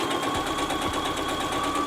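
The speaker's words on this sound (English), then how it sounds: "throw it in the sewing machine, press it on the first stitch, and go" Brother Strong and Tough computerized sewing machine stitching through two layers of cotton, a steady close-up mechanical whir with a fast even needle rhythm running throughout without pause.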